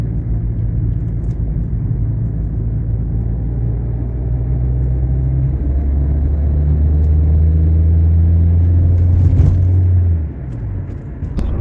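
A 2006 Renault Scenic with a 1.5 dCi diesel engine accelerating, a loud steady low engine rumble that rises in pitch and holds before easing off near the end, heard from inside the car with no talk.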